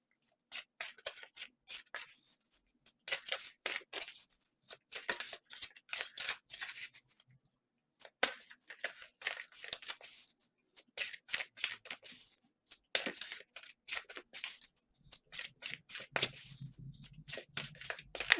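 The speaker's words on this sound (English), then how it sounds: "Whenever I'm shuffling for you here, Pisces, this deck and the last deck, the cards seem to be temperamental" A tarot deck being shuffled in repeated bursts of fast, crisp riffling and card rustling, each flurry a few seconds long with short pauses between, close and clear with no talking; a low hum comes in near the end.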